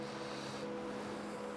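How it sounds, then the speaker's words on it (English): A river flows somewhere below, a steady broadband rush of water, faint and continuous, with no voices. "I can hear a river"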